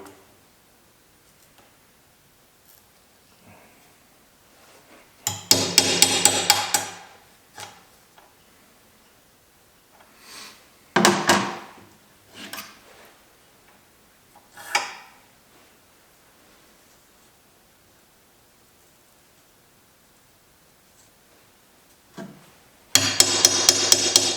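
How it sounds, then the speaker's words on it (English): A hammer drives a metal punch to knock holes through metal parts while building a grain vac air system. Several loud bursts of rapid, ringing strikes are separated by quieter pauses and scattered single taps, with no talking. "I'm going to use it as a punch to to knock them holes in nice"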